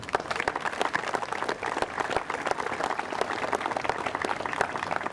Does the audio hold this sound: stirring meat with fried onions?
no